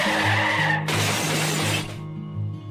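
A car crashes in the Roblox game Brookhaven, a loud shattering smash with skidding that fills the clip before fading to a low, steady game tone.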